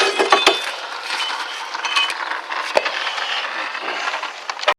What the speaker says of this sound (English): And now we'll take our rotor off.